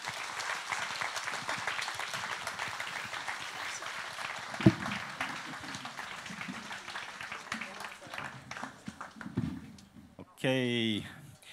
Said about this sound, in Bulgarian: Аплодисменти за нашия панел.